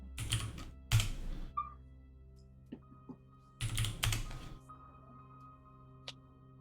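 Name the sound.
typing on a computer keyboard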